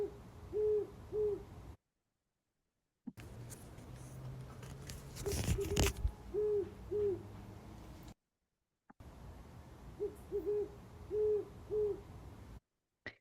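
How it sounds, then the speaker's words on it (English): Great horned owl hooting at night near a house in autumn, clear rhythmic series of deep low hoots repeated in short bursts at moderate distance, with quiet gaps between phrases and a brief rustling scrape in the middle. "I'm going to play you a clip of a great horned owl calling near my house last fall."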